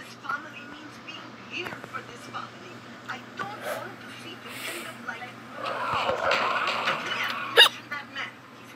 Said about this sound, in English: I still have the hiccups.